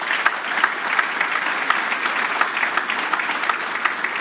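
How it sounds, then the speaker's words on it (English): Applause from a conference audience at a rail safety event's closing session, dense steady clapping from many hands filling the room without a break, no voices on top. "so perhaps a special applause to the technical team"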